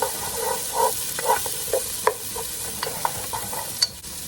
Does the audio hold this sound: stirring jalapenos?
yes